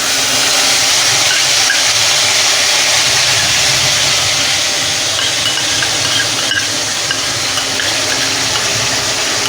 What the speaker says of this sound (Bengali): বন্ধুরা আমার তেলটা গরম হয়ে গেছে, আমি কালো জিরে ফোড়ন দেব, দিয়ে আমি সর্ষে বাটাটা দিয়ে দেব।